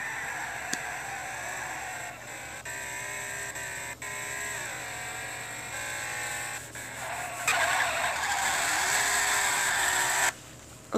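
Tires skidding and squealing as a car drifts in the mobile racing game Real Drift, with a Skyline GT-R R34 and E30 M3 featured; steady engine drone under sustained screech that grows louder and brighter near the end.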